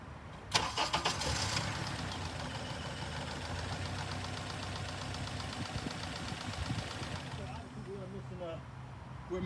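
A Honda car engine cranks briefly and catches, settling into a steady, slightly uneven idle with a missing cylinder one and a pressure transducer fitted in the spark plug hole, heard close for several seconds.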